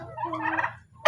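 A turkey gobbles once, a warbling rapid call at close range, followed by a brief sharp noise at the end.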